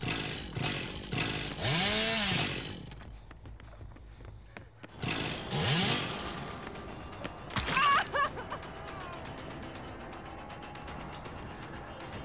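Hillbilly's chainsaw in the game Dead by Daylight revs in rough roaring bursts, broken by short pauses and loud impacts, over steady game background noise with no talk.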